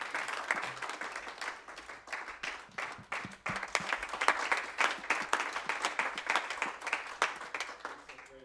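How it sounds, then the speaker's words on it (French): A congregation at a watch night prayer service claps for the Lord, dense rapid applause running steadily and fairly close throughout, with a slight dip midway before it swells again. "Applaudissons pour le Seigneur."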